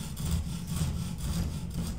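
Commando chain saw, a hand-pulled cutting chain with rings at each end, rasping through wood in quick back-and-forth strokes, several rhythmic scraping passes close up and fairly quiet.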